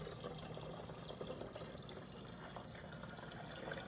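Two litres of water pour steadily into a container for household cleaning, a continuous broadband splashing rush with no talking.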